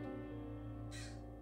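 Crow cawing in the video game Backbone, a single hoarse caw over a steady low musical and ambient game background, fairly faint and brief.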